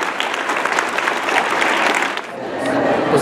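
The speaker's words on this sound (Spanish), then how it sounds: "darle un aplauso a todos nuestros invitados" A crowd at a school event in Mexico claps loudly and steadily for guests, the applause briefly dipping near the end before picking back up.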